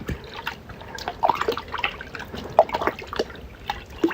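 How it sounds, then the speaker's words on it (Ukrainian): Water poured over extinguished ash and stirred while mixing a cucumber fertilizer, giving close, uneven wet drips, trickles and sloshing scrapes throughout. "Зараз ми йому даємо водичку і добре все перемішуємо."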